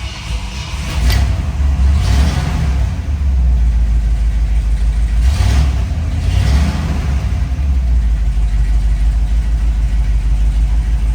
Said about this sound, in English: and fire it up.